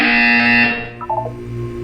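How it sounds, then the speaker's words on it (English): A loud, harsh buzzer in the video game Portal 2 drones for most of a second, then cuts off, followed by a few quieter electronic beeps. "You will hear a buzzer."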